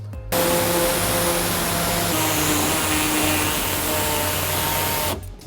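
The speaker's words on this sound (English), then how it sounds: "we're gonna take our air saw and we're gonna cut off this entire lip" An air-powered saw cuts away a plastic lip beneath a 2015 Toyota Sienna, a steady loud buzzing whine running continuously for about five seconds before stopping abruptly.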